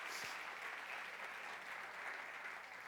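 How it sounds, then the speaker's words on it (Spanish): A church congregation applauds in a steady, dense wash of clapping that fills the whole stretch, loud and continuous with no talk over it. "Dale un aplauso a Él."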